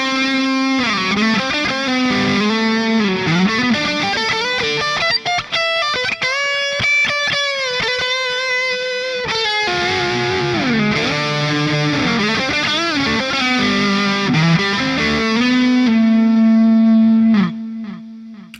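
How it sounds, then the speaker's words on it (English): A distorted electric guitar plays a 2000s-style lead tone: loud, sustained, saturated notes with bends and slides run through a melodic phrase, alone and close, then ring out at the end. "this tone sounds exactly like so many guitar tones I've heard"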